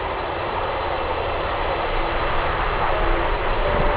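Alaska Airlines jet arriving at Anchorage in a strong crosswind, a steady broad engine roar holding at an even level throughout with no talk.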